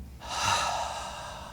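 One long, deep breath pushed out through the mouth, loud and close, fading gradually over a second and a half.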